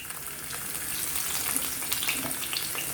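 Garlic sizzling in hot oil with spluttering jeera (cumin seeds) for aloo methi, a steady bright crackle with scattered pops rising slightly in intensity, with no talking.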